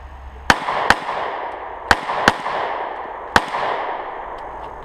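A Sig Sauer P938 pistol fires five sharp, loud shots at an irregular pace, each with a short echoing tail, heard close up on a shooting range with no talking.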